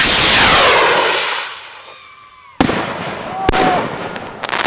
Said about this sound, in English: the big rocket missile firework